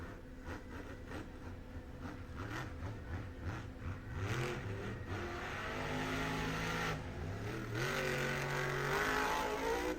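Monster truck engines roar and rev hard at a Monster Jam 2025 event in Jacksonville, Florida, the pitch climbing and falling through repeated throttle bursts over a loud, steady arena crowd.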